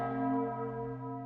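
A single bell rings in a dating-sim video game, one clear resonant strike with a rich tonal ring that sustains briefly as it decays.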